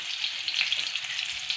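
Finely chopped onion and cumin frying in a pan, a steady, close, fairly soft sizzle with small crackling pops and no speech.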